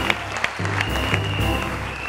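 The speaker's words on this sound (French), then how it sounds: "Applaudissez pour Boris" Short burst of studio audience applause on a French TV show, brisk clapping mixed with other studio sounds and tones for about two seconds.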